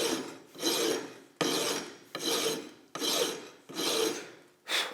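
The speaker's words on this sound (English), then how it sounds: "I can truly hog off material quick. So this shouldn't take too long of filing," A rasp files a wooden shotgun stock being custom-shaped for an A.H. Fox gun. It makes six close, loud, evenly paced rasping strokes, each starting with a sharp bite and fading as the stroke ends, with no talk.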